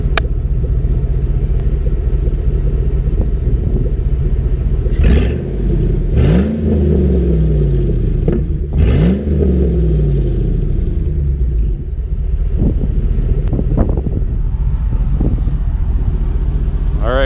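A 2004 Silverado with a swapped-in 4.8 V8 and an open Y pipe idles with a deep rumble, then is blipped through two or three sharp revs that fall back to idle. Wind noise runs throughout.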